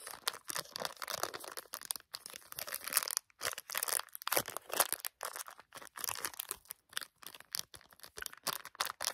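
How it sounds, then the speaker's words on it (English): Plastic packaging of soaps and bath products is crinkled and crushed close up in a quiet room, giving continuous soft crackling and rustling with brief pauses. "There's probably going to be a lot of crinkling because a lot of these items are very crinkly."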